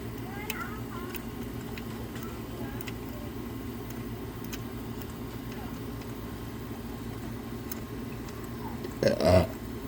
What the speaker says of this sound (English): Man, I'm belching too much.